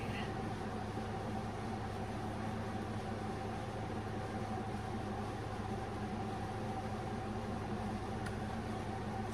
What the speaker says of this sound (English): If you hear that sound in the background, that is my air conditioner.